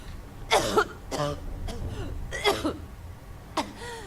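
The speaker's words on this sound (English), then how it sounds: "Still coughing a bit." Several harsh coughs and throat-clearing bursts come in irregular fits, close to the mic, with gasping breaths between them, from the game Fallout 4.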